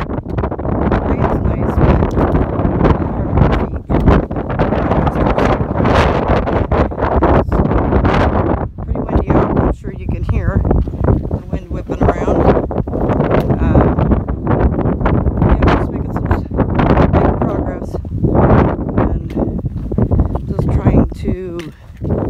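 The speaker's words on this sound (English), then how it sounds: "even though it's windy, it's not as bad" Strong wind buffets the microphone on a rocky hiking trail of the Pacific Crest Trail, a loud, gusty roar and rumble that rises and falls continuously, with a person talking at times.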